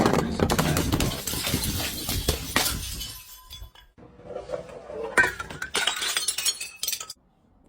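Glass bottles are crushed and broken, giving repeated sharp crunching shatters and clinking fragments in irregular bursts, with a brief quiet gap before a further round of close cracking.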